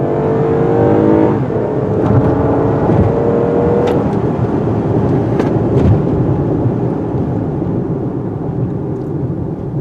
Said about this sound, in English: Let's do a 0 to 60 run.